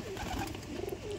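Domestic house pigeons kept in a loft coo softly and continuously nearby, a low murmuring warble with a few swelling notes, no talk over it.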